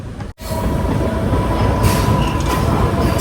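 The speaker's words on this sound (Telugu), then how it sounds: "మన ట్రైన్ అయితే ఇప్పుడే సంగం జాగర్లపూడి స్టేషన్లోకి అయితే ఎంటర్ అయిపోతుంది ప్లాట్ఫామ్ 1కి" A MEMU train rolls into Sangam Jagarlamudi station on platform 1, a loud, steady rumble of wheels and carriages with faint rail squeal and clatter, after a brief cut at the start.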